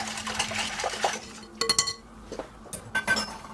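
A utensil clinks and scrapes against a bowl while dry yeast, flour and salt are mixed for bread dough, in uneven bursts of sharp taps with short pauses.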